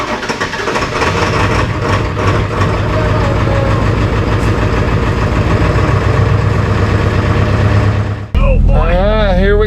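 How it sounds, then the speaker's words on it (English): Jeep 4.0 inline-six fitted with a turbo idling before a test drive, a loud, steady, rumbling idle close by that ends abruptly near the end, followed by a short burst of voices. "First test drive in the Jeep after the big turbo."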